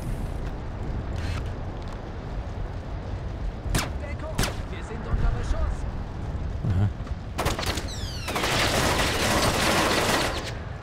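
Gunfire in the stealth game Splinter Cell: Chaos Theory, a few sharp isolated shots followed by a dense burst of rapid fire toward the end, over a busy in-game ambience with faint talk.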